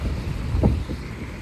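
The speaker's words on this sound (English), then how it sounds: "Oh yeah, it's windy." Wind gusting outdoors beside the Art Deco Cincinnati Museum Center, a massive building with flagpoles, comes through as a low, steady rumble buffeting the microphone, swelling in one stronger gust midway, with no talking.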